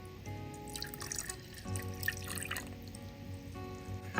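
Water is poured into bread dough for a Gugelhupf, a panettone-style Christmas cake, with soft drips and trickles running steadily and close by for a few seconds.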